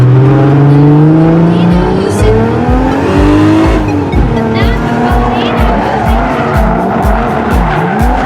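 A race car drives hard around a track, its engine note rising and falling through gear changes while tires squeal and skid in long strained tones, loud and close throughout.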